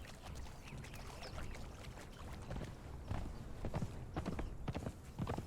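Horse hooves galloping at a steady beat in the Conan Exiles video game, with rapid clip-clop impacts continuing throughout over a dense game ambience, the strikes growing sharper and more distinct toward the end.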